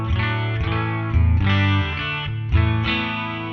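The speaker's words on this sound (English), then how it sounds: "You can hear a subtle chorus there" Electric guitar played through the onboard distortion of a NUX Cerberus multi-effects pedalboard, with a subtle chorus adding a gentle shimmer to sustained chords that are struck again every second or so, loud and close with no talking.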